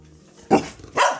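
Excited dogs let out two quick, close barks about half a second apart in a kitchen, sharp and loud over near silence.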